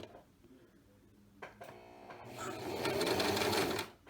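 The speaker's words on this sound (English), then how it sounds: "So I'm going to sew first in reverse just for a little bit," Sewing machine stitching a short reverse run on a tote bag, a steady whirring hum that starts after a brief pause and grows louder, running continuously for about a second and a half before stopping.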